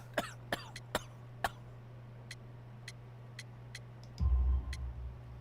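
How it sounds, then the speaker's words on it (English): A coal-dust-sick worker character in the video game Sherlock Holmes: The Devil's Daughter coughs in a quick run of four or five sharp, close hacks. Fainter ticks follow, then a brief low rumble near the end. No one speaks. "You have a severe cough."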